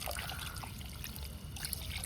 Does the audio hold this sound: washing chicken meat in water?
yes